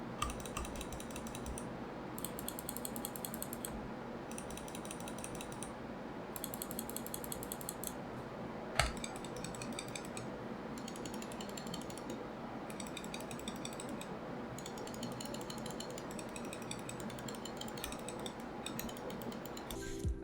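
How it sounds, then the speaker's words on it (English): Rapid, crisp clicks from the left and right buttons of a Dierya Falcon RGB mouse, delivered in close, repeated bursts with brief pauses between groups, all quiet and without any talking. "this switch on the right and left click of this mouse is a bit harder to click than your typical Omron switches"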